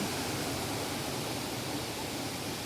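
The Jet Sao Noi waterfall in Saraburi, with clear green water, gives a steady, loud broadband rush of falling water that stays even and unbroken throughout, with no talking.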